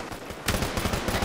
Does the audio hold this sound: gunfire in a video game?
yes